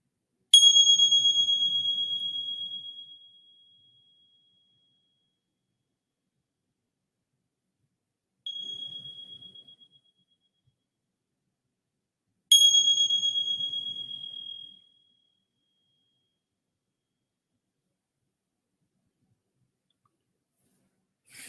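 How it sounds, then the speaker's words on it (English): A meditation bell rings three times, each strike a clear bright tone that rings out and slowly fades, with long quiet pauses between, the second strike noticeably softer; no talking. "receiving the sounds of the bell"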